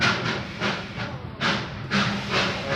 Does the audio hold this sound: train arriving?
yes